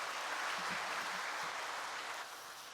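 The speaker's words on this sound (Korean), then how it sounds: "큰 박수로 환영하도록 하겠습니다" A church congregation, seated in masks at a Sunday afternoon service, applauds to welcome a guest lecturer, a steady wash of clapping throughout that thins slightly toward the end.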